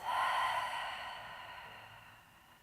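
A single soft, breathy exhale let out through the mouth, close and quiet, starting strongest and slowly trailing away over a couple of seconds.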